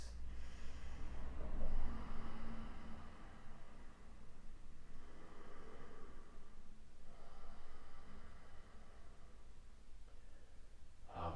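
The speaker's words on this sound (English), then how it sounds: "Nice deep breaths." Slow, deep breathing during a vinyasa yoga flow, with long, soft, airy inhales and exhales running under faint background hiss.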